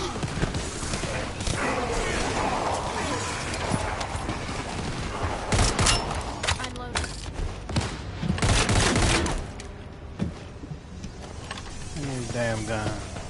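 Gunfire in the video game The First Descendant comes as dense, continuous bursts of shots amid a loud, busy combat mix, and a voice talks over it near the end.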